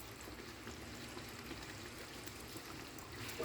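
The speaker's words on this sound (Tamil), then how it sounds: "தண்ணி கொஞ்சமாக ஊற்றிக்கலாம்." Steady watery rush of water being poured into a cooking pot of chicken, continuous and close, with no talking over it.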